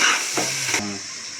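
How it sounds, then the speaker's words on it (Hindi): Chicken pieces frying in a pan for a chicken and potato curry, a steady close sizzle with brief bursts of stirring, no talking. "चिकन को अब हम रंग तब्दील होने तक पकाएंगे।"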